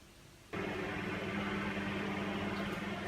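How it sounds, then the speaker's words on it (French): A microwave oven hums steadily while melting butter, starting abruptly after a brief quiet moment and running as an even mechanical drone with a faint fan-like hiss. "je vais prendre le beurre et je vais aller le faire fondre au micro-ondes"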